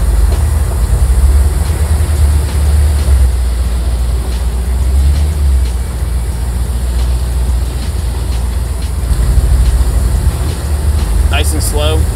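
AM General Humvee, a submersible build, crawling slowly in low gear with torque converter lock-up, a steady loud low engine rumble throughout with faint mechanical clatter and a brief metallic ring near the end.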